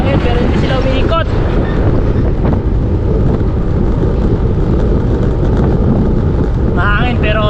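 Strong wind at a Guanyin wind farm roars steadily into the microphone throughout, a loud, continuous rumbling buffet with faint background sounds beneath it.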